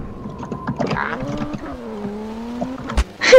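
A car driving in Garry's Mod gives a steady, slowly shifting engine drone with a few clunks and knocks, ending in a louder burst, heard close with no talking.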